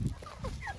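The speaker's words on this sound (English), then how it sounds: "So I'll show you the chicks, guys. My brother's chicken." Chickens and chicks in a mountain yard give a few faint, short clucks and peeping calls, quiet and close, with no talk over them.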